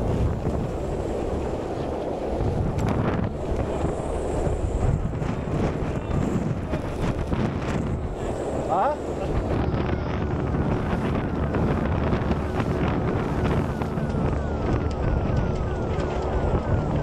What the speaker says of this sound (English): Over 60 miles an hour or 60 knot winds.